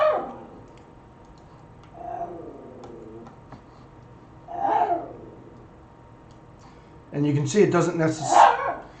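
A dog barks in a room during an online sketching session, a few short bursts spread out and rising to a louder cluster near the end, with a person talking in between.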